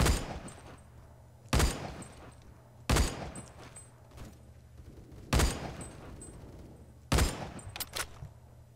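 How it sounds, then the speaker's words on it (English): Gunfire in the Roblox game Phantom Forces: about five sharp, loud shots spaced a second or two apart, each with a short tail, over a low steady background hum. "they're already shooting me"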